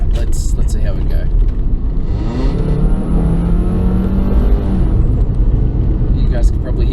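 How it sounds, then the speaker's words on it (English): A car accelerating with a whistle from its rear muffler, a rising engine drone with a faint high whistle above it, while people talk inside the cabin. "You guys can probably hear that whistle just then. That is the rear muffler."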